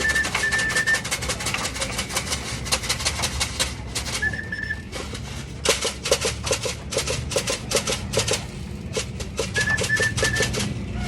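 Pigeons in a loft make soft cooing and chirping calls over a busy background of rapid clattering and tapping, with short whistle-like tones coming and going.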